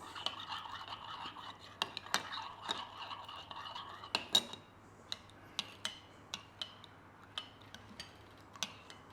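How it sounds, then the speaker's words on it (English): A spoon stirs chopped cilantro into ceviche in a bowl, giving close, light scraping and clinking. The taps come busily at first, then settle into a sparser, steady tick of spoon against the dish. "And we mix that in with a spoon."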